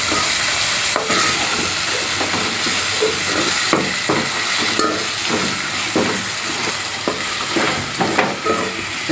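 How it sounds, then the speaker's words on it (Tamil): Tomatoes sautéing in a pan with ginger and garlic, a steady loud sizzle broken by repeated scraping stirs and clinks of the spatula throughout, with no talking. "இஞ்சி பூண்டு வதங்கினா தக்காளி போட்டு தக்காளி போட்டு வதக்கலாம்"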